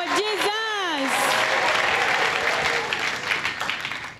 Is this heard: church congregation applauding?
yes